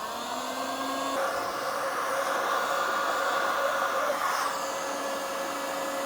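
A heat gun blows steadily and loudly against the rear wheel hub of a KTM SuperDuke 990 during damping rubber removal, a continuous whooshing drone with a slight pitch shift partway through.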